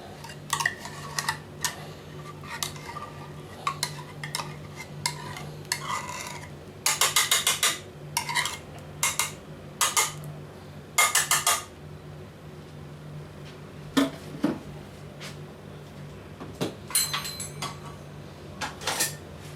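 A utensil spreads cream over the top of a kunafa made with phyllo dough in a pan. It gives close, irregular metallic clinks and scrapes in short bursts, with quiet pauses between them and no talking.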